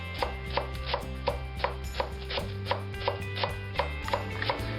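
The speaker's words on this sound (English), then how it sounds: "Now we're going to go ahead and shred up some lettuce." A knife shreds lettuce into thin slices for tacos, making a steady, evenly spaced series of crisp chops on a board over music playing in the background.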